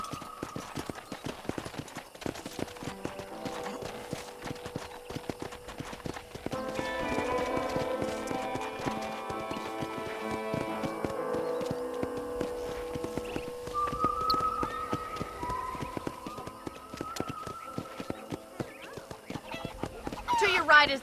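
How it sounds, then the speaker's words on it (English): Horse hooves clip-clop steadily in the video game Red Dead Redemption on a ranch, a continuous rhythmic trotting with an occasional whinny, under game music and a voice talking. "I picked out a fine horse for you. Giddy up!"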